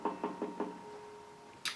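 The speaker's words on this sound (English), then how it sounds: "I knocked." Four knocks on a house's front door in an animated story, evenly spaced and close, followed by a brief sharp rustle at the end.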